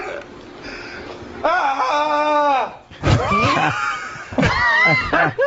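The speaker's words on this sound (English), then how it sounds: "he tries to stand and starts screaming again" In a recording, a man who has taken drugs screams and wails in long, strained, wavering bursts, loud and close, with short breaks between outbursts.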